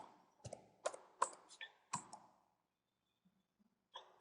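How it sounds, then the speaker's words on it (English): A short burst of key presses on a computer keyboard, six or so distinct taps in quick succession, then a pause and a final click, close and quiet. "we're going to type Quota"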